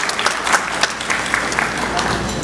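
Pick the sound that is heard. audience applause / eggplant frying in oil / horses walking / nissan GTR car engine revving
audience applause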